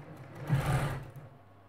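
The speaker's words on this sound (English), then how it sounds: "so now I'm sewing them into fours" A sewing machine stitching quilt fabric pieces together for a Dresden Plate quilt, one short run of fast, even needle chatter swelling and fading, close and moderately loud with no speech.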